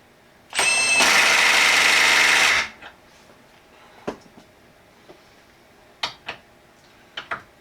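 A Milwaukee M12 3/8-inch stubby cordless impact wrench spins a nut onto a bolt in one loud, steady two-second burst of rapid hammering. The burst stops abruptly and is followed by a few faint clicks and taps.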